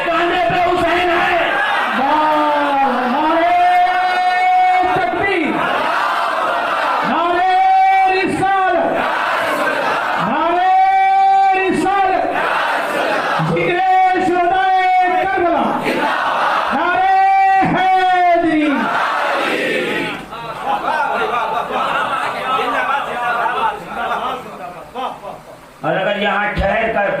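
At a Muharram religious gathering a large crowd answers a takbir call in repeated loud unison chants, several rising and falling shouted waves in a row, then echoing hall noise.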